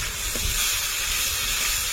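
Tomato puree goes into a pan of three well-fried onions for a prawn curry, giving a steady, close hiss of sizzling that holds evenly throughout with no one talking.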